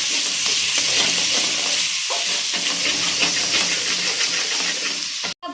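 Half a cup of oil frying in a pan with carrots while egg fried rice is made, a steady close sizzle with stirring scrapes throughout and a brief drop near the end.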